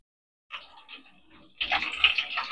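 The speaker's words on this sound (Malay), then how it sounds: "Ni Kak Mia nak tambah air garam." Salt water splashes briefly into a batch of banana chips, first a light trickle and then a louder, steadier pour close by.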